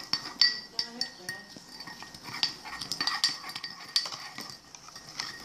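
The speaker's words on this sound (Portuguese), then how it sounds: "Agora tem que mexer bastante até virar uma calda." A spoon clinks against a mug while stirring mug cake batter in a home kitchen, giving repeated bright taps at an uneven rhythm, close and moderately loud, with no voice over it.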